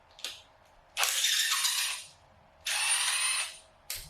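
Two long bursts of rapid ratcheting from a wrench loosening a large engine bolt on a K24 engine teardown, separated by short clicks and pauses, close and clear with no talking.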